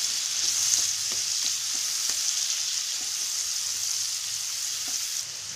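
Chopped onion frying in two spoons of hot oil in a kadhai over low heat, a continuous even sizzle with soft intermittent stirring taps, close and alone.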